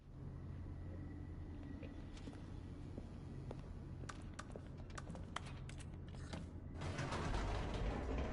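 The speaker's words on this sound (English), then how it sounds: "The elevator raced downward" An elevator descending in The Stanley Parable video game: a steady mechanical rumble and creaking hum runs throughout, scattered with clicks and rattles, swelling louder and heavier near the end.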